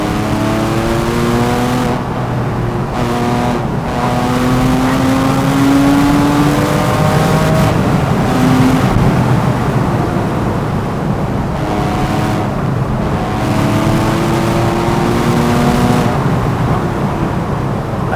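A Porsche 911 997.1 Carrera S engine revving hard and loud to about 5,500–6,000 RPM, pitch climbing and dropping as it pulls through the gears, with a brief lift between pulls.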